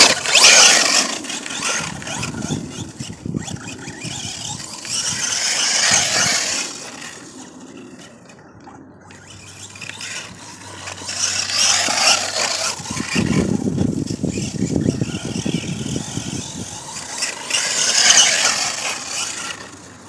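A Horizon Hobby Force RC Outbreak 4WD monster truck with an Arrma BLX brushless system on 2S runs off-road at a park, giving a near whirring and rumbling sound that surges and eases as it drives.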